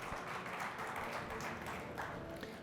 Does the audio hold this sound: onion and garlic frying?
no